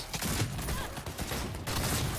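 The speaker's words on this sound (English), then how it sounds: "Why are you shooting?" Dense, continuous bursts of gunfire from a fusillade in the Cyberpunk 2077 video game, played on an Xbox Series X, with rapid overlapping shots filling the short stretch at steady loudness.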